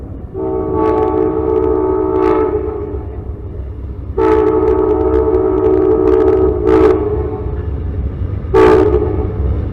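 A loud Amtrak train horn blasts several times in a rhythmic pattern, close by on CSX tracks, with the rumble of the passing train beneath.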